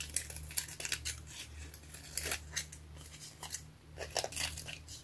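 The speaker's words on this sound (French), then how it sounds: "je viens juste couper les bords" Scissors snip the edges of junk journal paper in a series of quick, crisp, close cuts at an uneven rhythm, faint overall and with no talking.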